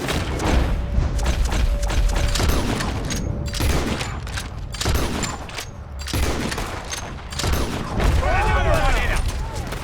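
Rapid gunfire and booming shots rattle through a shootout in the Red Dead Redemption 2 video game, repeated bursts running the whole time beneath loud shouting voices.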